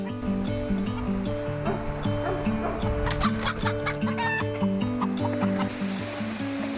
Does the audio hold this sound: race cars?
no